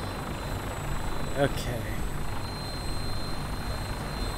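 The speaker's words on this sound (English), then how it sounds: "Ooh, a different chopper." A vertibird helicopter from the video game Fallout 4 drones steadily in a constant rotor wash, with a person briefly speaking over it.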